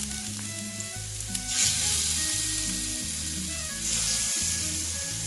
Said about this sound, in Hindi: चिकन ऐड करेंगे, एक एक करके जो चिकन के पीसीज हैं वो तवे के ऊपर रखे जाएंगे